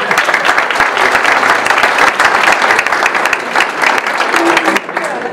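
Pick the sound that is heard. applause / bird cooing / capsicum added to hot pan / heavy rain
applause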